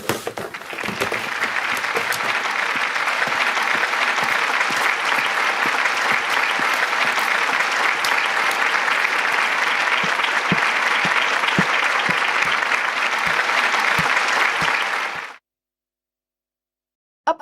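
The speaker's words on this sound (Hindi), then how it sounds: "तालियां बजाकर स्वागत करें।" Loud, sustained applause from a large crowd welcoming the chief guest at a school's silver jubilee celebration, a dense even roar of clapping for about fifteen seconds that stops abruptly into silence.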